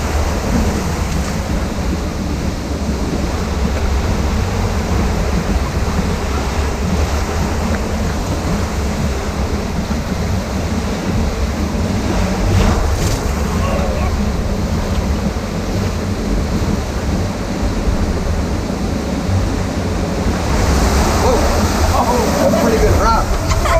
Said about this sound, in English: Yeah, these rapids do get you wet.